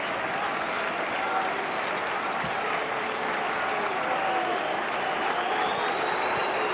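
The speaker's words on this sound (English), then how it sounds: "he will make way to a round of applause" Steady applause from the home crowd at a Scottish football match as a player is substituted off, a dense, continuous wash of clapping heard from a distance across the stadium, with a commentator's voice faintly underneath.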